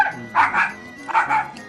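Dog barking in the Super Mario RPG Revolution video game, two short bursts of yappy bow-wow barks spaced about a second apart, close and clear.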